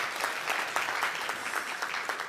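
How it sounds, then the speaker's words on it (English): An audience at a school masque event bursts into steady, dense applause, many hands clapping loudly and evenly throughout. "that deserves a round of applause"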